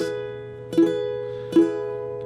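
Two strummed ukulele barre chords, each struck sharply and left ringing, with a steady sustained tone underneath throughout.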